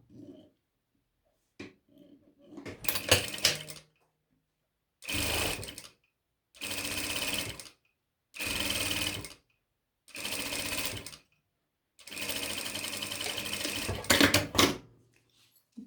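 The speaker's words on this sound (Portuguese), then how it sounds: "vou passar uma costurinha de beiradinha aqui nessa primeira linha aqui" A sewing machine sewing bias binding along the edge of a medicine holder, running in six or seven short bursts of rapid stitching separated by quiet pauses, close and clear with no talking.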